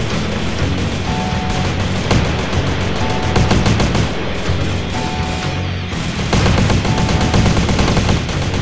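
Gunfire in GTA San Andreas during a SWAT versus army deathmatch mod, with an enemy firing a shotgun: loud, dense volleys of shots rattle almost continuously, with brief lulls, and no talking over them.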